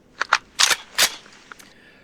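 Gunfire and reload effects from the video game Cops 'N' Codgers: a pair of quick clicks, then two louder bursty shots close together and a few fainter clicks trailing off, with no talking.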